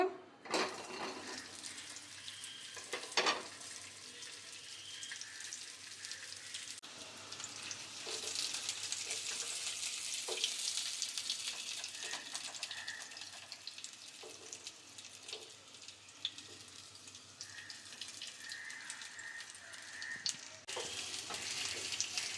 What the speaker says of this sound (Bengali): আলুগুলো হালকা করে ভেজে নিয়েছি